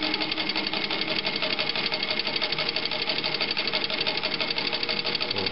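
A Singer 15-91 sewing machine stitching at full stitch length, a steady, close, rhythmic mechanical whirring with even clatter that runs continuously without pause.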